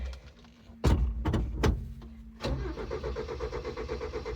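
A car engine is cranked after its carburetor was primed, with a few sharp clunks and a starter whir before it catches and settles into a steady, rhythmic idle close by.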